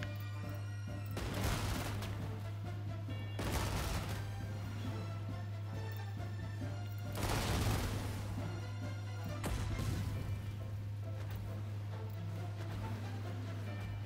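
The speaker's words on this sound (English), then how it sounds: "I want as much artillery as you can get firing on the left-hand point first" Artillery firing in the World War II strategy game Panzer Corps 2, four heavy booming blasts at regular intervals over a steady low hum, moderately loud and alone.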